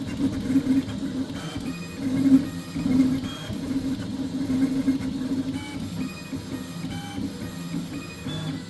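A Fibre steam HGX 3D printer fitted with a Goliath hot end runs at 265 degrees through a 0.4 nozzle, its stepper motors whirring and chirping in a steady mechanical hum with shifting tonal squeals, close and continuous.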